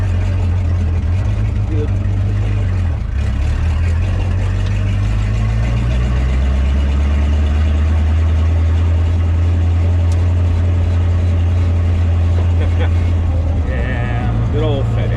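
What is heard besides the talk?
car engine revving, aluminum flywheel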